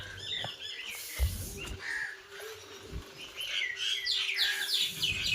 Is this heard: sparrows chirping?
yes